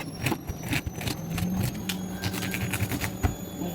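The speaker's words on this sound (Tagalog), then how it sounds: "pasensya na ang ingay ng aming washing machine guys" A household washing machine in a home in Lebanon runs with a steady low mechanical hum, broken by repeated soft clunks and rattles from the drum turning, fairly close and loud throughout.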